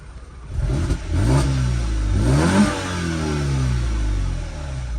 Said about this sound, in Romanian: Hai să vedem și evacuarea cum se aude.